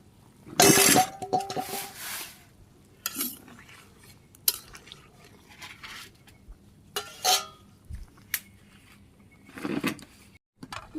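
Eggs going into a simmering curry pot of egg and potato in a village kitchen, with scattered clinks of a metal spoon against the pot and stirring scrapes, several sharp knocks spread over a quiet background.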